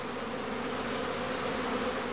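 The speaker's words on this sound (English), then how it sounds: "The prime swarm flies off." A honeybee prime swarm leaving the hive fills the air with a dense, steady, continuous buzz, loud and close throughout.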